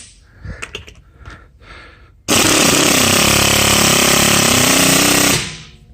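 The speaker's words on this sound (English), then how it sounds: "And this is what I was talking about, impact mechanism ratchets." A Husky cordless ratchet with an impact mechanism runs in one loud, continuous rattling hammer burst of about three seconds, following a few quieter handling clicks and fading out at the end.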